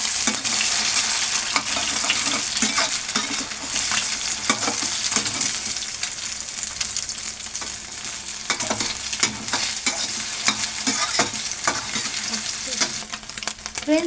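Beaten egg fries omelette-style over a high flame for egg fried rice, making a constant loud sizzle with frequent rhythmic spatula scrapes and taps close up; there is no talking.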